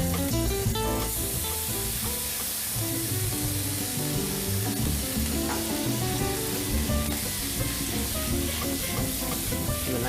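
Pasta with mixed herbs and capers sizzles loudly in a hot pan, a dense continuous frying hiss with stirring and tossing clatter throughout, no speech.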